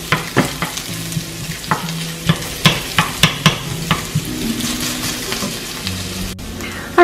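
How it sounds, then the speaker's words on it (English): Finely sliced onions fry in melted fat in a pan, a steady close sizzle broken by frequent sharp stirring clicks and scrapes, with no talking. "Once it's fully melted, I'm gonna go ahead and add the onions."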